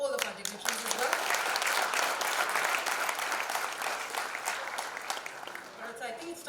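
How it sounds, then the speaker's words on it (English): Enthusiastic audience applause at a foundation launch event, a dense, steady wash of clapping hands filling the room for several seconds before tapering slightly at the end. "एक enthusiastic round of applause हो जाए to welcome all of our dignitaries"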